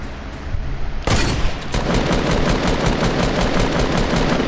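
Rapid automatic gunfire from a video game, a loud, sustained machine-gun burst that starts after a brief quieter moment and continues steadily to the end, with no talking over it.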